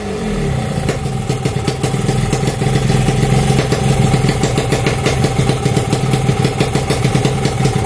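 A motorcycle engine revs loud and close right after its membrane has been tuned. It runs with a rapid, rough pulsing rhythm that builds slightly and holds steady, with no one talking.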